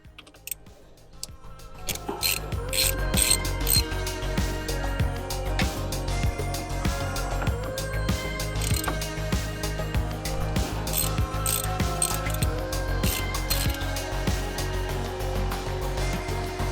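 A ratchet clicks rapidly and repeatedly while removing the thermostat housing neck from a Mazda MX-5 NB2 during a cooling system overhaul, with close, continuous mechanical ratcheting through most of the clip and no talk.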